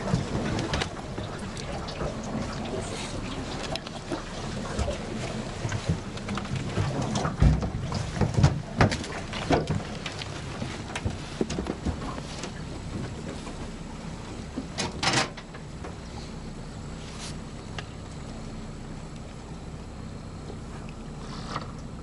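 A boat motors across the water in the Pantanal, Brazil, with a low rumble, water noise and occasional knocks and bumps, no talking.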